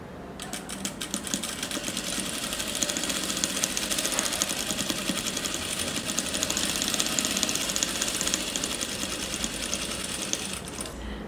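A sewing machine runs continuously at a fast, even, buzzing rhythm, stitching patchwork fabric pieces placed right sides together for a Dresden Plate placemat. The sound is close and steady, with no voices.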